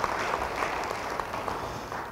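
A church congregation gives brief applause, a moderate, steady patter of many hands clapping heard from a short distance.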